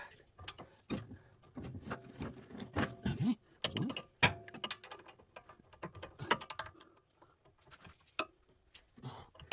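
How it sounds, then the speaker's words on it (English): Brake caliper bolts on a 2006 Toyota Tundra being removed with a 17mm socket: irregular metallic clicks, ratcheting ticks and clunks, close and intermittent with short pauses, no voices. "I'm going to start by removing the caliper. There are two bolts that require a 17mm socket."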